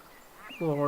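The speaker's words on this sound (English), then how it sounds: "I do want to check these ducks out and see if we got any 5-star ducks." Ducks quack in the hunting video game Way of the Hunter. A faint call comes first, then a louder nasal honking quack near the end, over soft ambient background.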